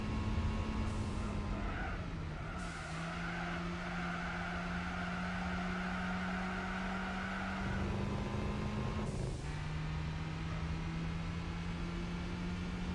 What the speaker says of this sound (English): Ah, I hit the rev limits.